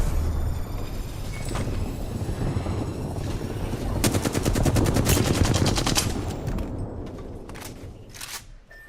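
Rapid automatic gunfire from an Apex Legends match rattles on continuously, with dense bursts building toward the middle and easing near the end, close and loud.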